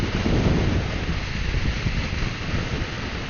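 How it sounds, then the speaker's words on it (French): Steady, loud wind rush buffets the microphone during a ride on a 125cc V-MAX motorcycle, a dense low roar with no clear gusts, continuous and without speech. "le vent il souffle quand même pas mal en finale"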